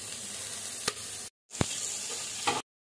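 Masala for mutton curry fries quietly in a pan, a soft sizzle broken by a brief gap and a few stirring scrapes, fairly faint.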